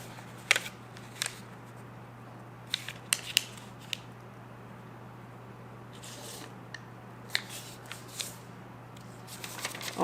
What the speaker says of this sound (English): folding the paper in half like a book